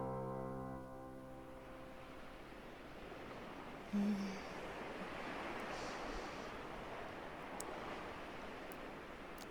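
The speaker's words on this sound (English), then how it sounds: "the sounds of waves touching the shore fills the air" Waves washing onto a shore in a Doki Doki Literature Club mod, a steady soft surf wash with a gentle swell partway through, calm and continuous with no voices.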